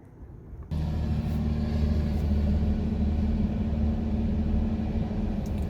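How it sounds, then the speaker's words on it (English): Car cruising down a canyon road, its steady low engine drone and road rumble starting abruptly and holding constant, heard from inside the vehicle, continuous and moderately loud. "let's get back in the vehicle and we'll go down through the canyon"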